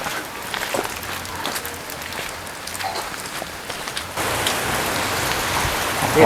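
Rain falling steadily on a surface outdoors, a dense patter of drops that grows heavier and louder toward the end, with no clear talk over it.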